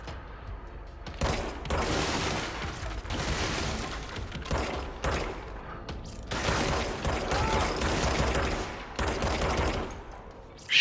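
Gunfire in the video game Control, heard as long stretches of rapid, rattling automatic shots broken by short pauses, fairly close and steady in loudness, with mechanical clatter mixed in.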